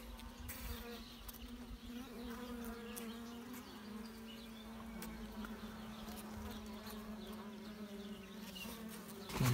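Native honey bees buzz in a thick, continuous hum up close, the wingbeat drone wavering slightly in pitch and staying steady for several seconds with no voices.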